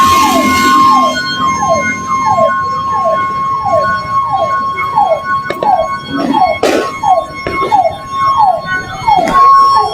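A fire truck siren wails loudly and close by at a burning power-line cable on New Year's, its rapid repeating yelp sweeping steadily over busy street noise with sharp bangs and crackles scattered through.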